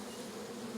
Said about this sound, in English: the bees will just gently run up the ramp